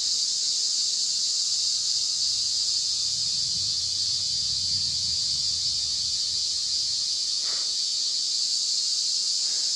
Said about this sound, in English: that's not a model aeroplane, that's the local cicadas